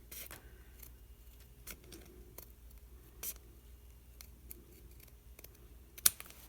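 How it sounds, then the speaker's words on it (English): Faint, sparse snips of scissors cutting through paper, a few irregular clicks with one sharper cut near the end, in a quiet room. "even when you're cutting with scissors"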